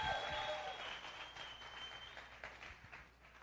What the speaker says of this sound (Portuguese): Aplaude Jesus aí, só para a gente quebrar o gelo.